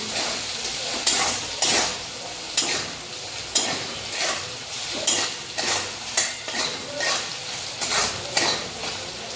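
Garam masala and red chili powder stirred together in a hot frying pan for peanut amti make a low sizzle under a steady rhythm of spatula scrapes and knocks on the metal pan, with no voices.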